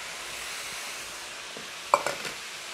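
Spring onion stems stirred and tossed in a pan with cabbage for special fried rice, a steady low sizzle with a few brief clinks of a utensil against the pan near the end.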